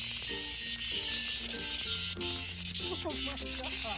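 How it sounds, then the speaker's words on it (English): Cicada buzzing on hot ground, a steady loud insect drone with rattling pulses throughout, mixed with background music and other sounds. "The ground is so hot that the cicada's tripping."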